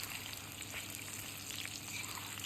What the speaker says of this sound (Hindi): कचालू को अच्छे से फ्राई कर लेना है।